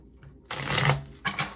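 Tarot cards being shuffled by hand in two quick riffling bursts, a longer one followed by a brief second, close and fairly quiet with no talk.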